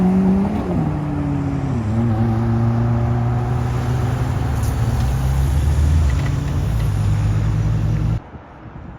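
A car drives off on a Paris street: a loud engine revs and pulls away, its steady roar holding for several seconds before cutting off abruptly near the end.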